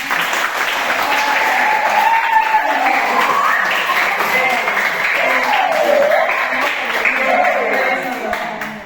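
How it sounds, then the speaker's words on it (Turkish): Sustained applause and clapping from a group at a birthday celebration held in a gym, steady and fairly loud for the whole stretch, with voices calling out over it. "Alkışlayan."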